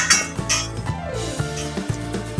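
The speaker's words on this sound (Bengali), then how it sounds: "এবার এই মশলাটা ওই চাল আর ডালটা যে সেদ্ধ করা ছিল ওটা দিয়ে ভালোভাবে মিক্স করে দেবো।" A spoon clinks and scrapes against a pot while mixing spices into boiled rice and lentils for khichuri, a few short metallic taps close by with no voices.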